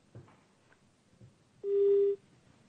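A phone call is cut off, leaving a short, clear electronic busy tone after a few faint clicks and rustles on the line.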